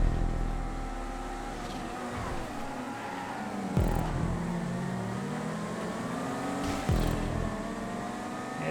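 Sport, muscle and coupe cars race in GTA 5, engines droning and revving steadily with pitch rising and falling through gear shifts, two sharp upshifts standing out, no talk.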